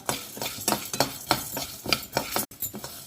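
Urad dal, chana dal and coriander seeds are dry roasted in a pan, stirred with a spoon in a rhythmic series of scraping, rattling strokes about every half second.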